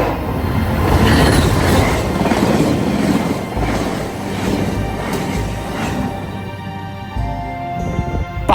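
A GO Transit train passes on the Lakeshore East Line near Rouge Hill station in autumn, making a loud, steady rumble with wheel clatter and some high squealing toward the end. No voices are heard.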